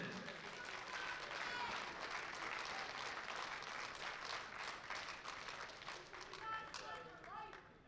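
Audience applause for a gold medal winner at the USA Powerlifting Open Nationals, a steady, fairly faint wash of clapping heard from a distance, with voices mixed in near the end.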